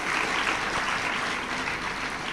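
Audience clapping at a spiritual talk, a steady, continuous wash of many hands applauding at moderate volume throughout, with no speech over it.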